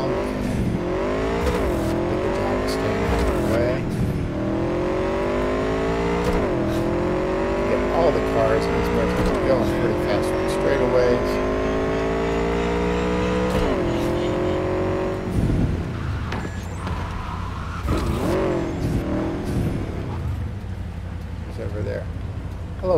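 A car is driven in the video game Cyberpunk 2077, its engine revving up through repeated gear changes with rising and falling pitch, loud and continuous, while someone talks over it.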